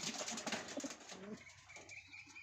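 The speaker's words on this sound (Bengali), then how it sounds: "আপনারা এই জায়গায় এক জোড়া কবুতর দেখতে পারতেছেন" A pair of pigeons, a male and a female, coo close up in a short, throaty, rolling call, with a faint rustle near the end.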